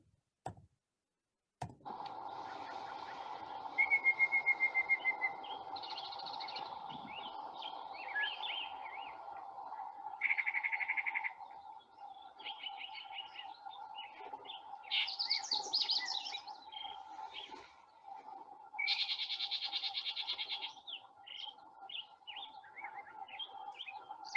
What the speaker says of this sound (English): the yellow-breasted chat